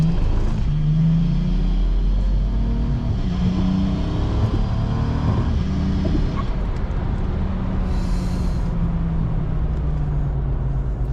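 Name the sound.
BMW N54 car with DCT gearbox swap accelerating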